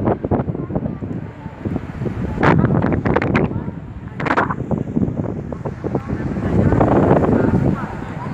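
Cold, fast wind buffets the microphone on a bridge over the Ganga at Har Ki Pauri in Haridwar, a loud, continuous roar with gusting surges, and a voice is faintly audible underneath.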